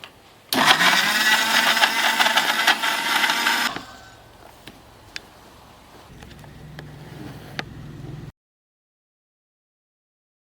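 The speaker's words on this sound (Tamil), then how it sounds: "இப்போ பச்சை மிளகாவை அரைச்சிப்போம்." A mixer grinder whirs loudly at full speed as it grinds green chillies, a dense roar lasting about three seconds before cutting off, followed by quieter rattles and handling noise, then silence.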